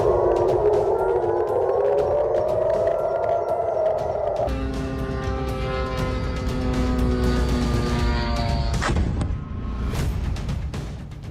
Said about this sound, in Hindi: जॉर्डन में सायरन अलर्ट पर यूएस एयरबेस।